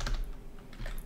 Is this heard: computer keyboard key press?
yes